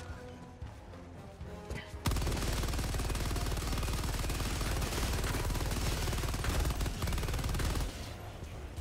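The Stalwart machine gun in Helldivers 2 opens up in a long, sustained burst of rapid, loud automatic fire that pounds on for several seconds before cutting off, with quieter game sounds before and after.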